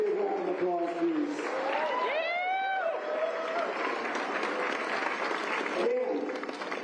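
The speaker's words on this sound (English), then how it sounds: "Let's give them a really big round of applause, please." Audience applause greets runners at the start of the 23 km Broken Arrow Skyrace, a mountain running World Cup event, steady crowd clapping and cheering sustained throughout, with a voice and some whistles or shouts briefly rising above it.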